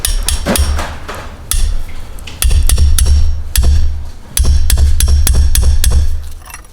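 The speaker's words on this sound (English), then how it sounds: "After using quite a bit of penetrate and the hammer, we finally got it to loosen up." A hammer striking a stuck bolt on a car's turbo during repair work, a series of loud, sharp metallic blows in irregular rhythm, close and alone with no talking.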